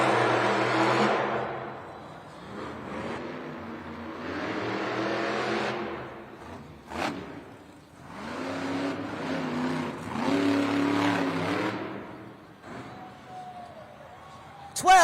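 The Monster Mutt Rottweiler monster truck launches from the starting line in a Denver arena, its engine revving hard in repeated rising surges with sharp pitch sweeps. An announcer talks over the din.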